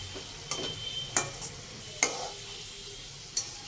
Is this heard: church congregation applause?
no